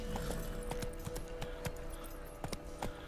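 Hooves of a horse in The Witcher 3 clip-clop in an irregular series of sharp, fairly faint knocks over a low game-world ambience.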